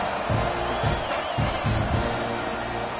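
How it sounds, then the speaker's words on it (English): A football stadium crowd buzzing after a score, a broad, steady murmur of many voices beneath a commentator talking over it. "this crowd is buzzing after that last score"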